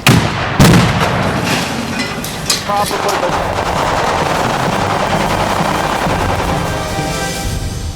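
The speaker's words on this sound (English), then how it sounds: "They're shooting, as you can tell." Gunfire on the set of the action film 24: Redemption, loud sharp shots and rapid bursts ringing out near the start and in the middle, over a noisy, echoing background of continuous rumble.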